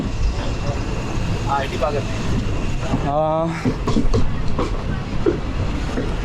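A moving train carriage gives off a steady, loud rumble and rattle, with people talking over the constant noise.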